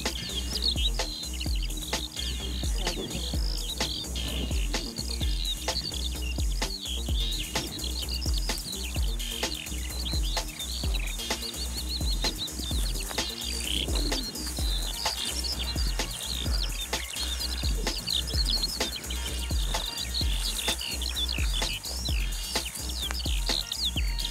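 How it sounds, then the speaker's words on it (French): Busy outdoor birdsong at a campsite, many small chirps and tweets overlapping continuously at moderate volume, with a steady low rumble underneath. "On a l'impression que les oiseaux, ils ont fait leur nid au sol."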